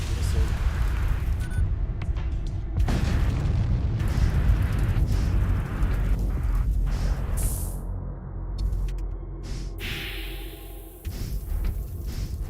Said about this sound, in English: Their ship should explode